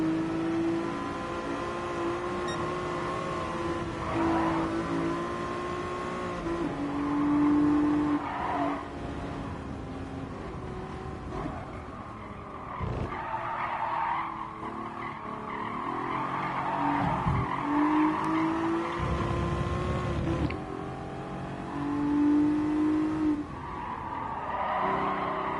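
A randomly picked race car driving laps in the racing game GT Sport, its engine droning steadily while tires squeal and skid repeatedly through corners, with surges of revving and brief thumps; no voices over it.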